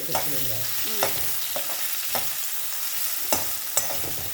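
Potato and carrot pieces fry in a pan with a steady hiss, broken by scraping stirs and a few sharp clatters of the utensil against the pan, close by with no talking.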